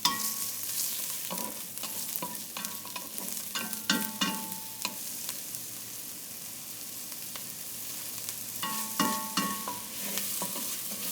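Onions and garlic fry in a pan for Tibetan thukpa, a soft steady sizzle under bursts of stirring and scraping clatter, near and fairly quiet, with no voices.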